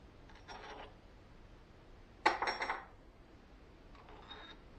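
Metal washer and thin nut being handled on an axle stub: a brief burst of clinking, scraping metal around the middle, with fainter rattles before and after, fairly quiet overall.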